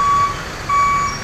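ALS bus number 253 reversing out of the Yogyakarta depot sounds two loud, steady electronic reversing beeps, each a long tone, over a low idling engine rumble, with no one talking.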